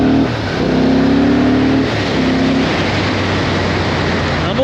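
Honda Hornet motorcycle engine, 91.8 hp in a 190 kg bike, revving up loud and close with rising pitch for about two seconds, then settling into a rougher, steady drone.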